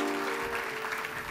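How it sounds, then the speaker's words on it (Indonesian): A church congregation claps together in a burst of steady applause during a sermon, with some voices mixed in. "Kasih tepuk tangan untuk Kak Pau."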